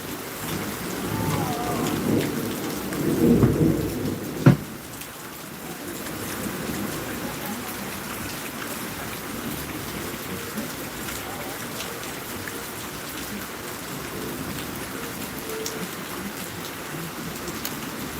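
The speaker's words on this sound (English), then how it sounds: "I do love listening to the rain, especially when I'm not driving in it." Steady heavy rain pours throughout at Celebration Lakeside Park, Florida, with a loud rumble of thunder cracking near the start before fading into the continuous downpour.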